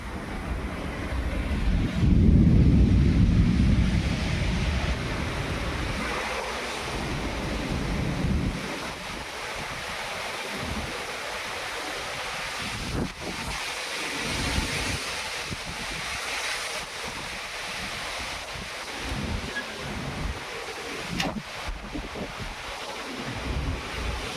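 Gusty wind blows in after intense hot weather, rising to a strong roar early on and then settling into a steady rushing that buffets the microphone; no one speaks.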